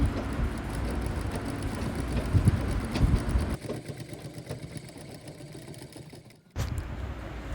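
A sewing machine stitches a blouse with a steady, close whirring drone that softens midway, cuts out briefly near the end, then starts again, with no voices.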